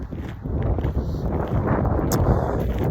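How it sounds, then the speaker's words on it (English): Cold wind blowing outdoors in the park of the Kyoto Imperial Palace, heard as a steady, low rumble of gusts buffeting the microphone, loud and continuous throughout. "So I don't know if it's the wind, it's making it feel colder."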